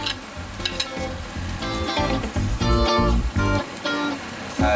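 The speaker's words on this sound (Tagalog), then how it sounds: "Tapos papainitin na natin yung sizzling plate natin. Tapos lalagay na natin yung ating sibuyas." Onions and fried canned meatloaf with sauce sizzle on a hot sizzling plate, a steady close crackle and hiss with sharp pops and scraping stirs throughout.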